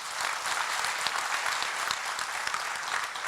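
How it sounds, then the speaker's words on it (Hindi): An audience at a Swami Ramdev event in Kolkata breaks into steady applause, many hands clapping in a fairly distant, even wash with no voice over it. "इसके लिए भी ताली बजाओ तुम लोग।"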